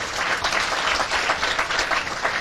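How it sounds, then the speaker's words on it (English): Kenyan children in a crowd at a political address clap for themselves, a full, steady round of applause with slightly pulsing loudness, close and lively, without speech over it. "Clap for yourselves."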